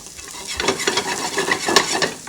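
Garlic and asparagus sizzle in a hot pan while being stirred, with crisp crackling frying noise and repeated scraping and clinking of the utensil against the pan, close and fairly loud.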